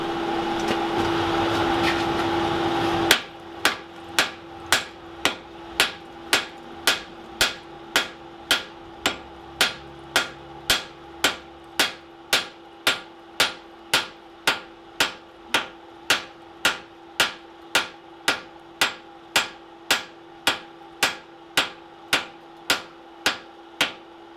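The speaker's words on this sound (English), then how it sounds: "we're going to switch out to a heavier hammer so we can start working that material" Steady, evenly spaced blows from a heavy hammer ring on metal, about two strikes per second, loud and close, after a few seconds of mixed workshop noise with a constant hum.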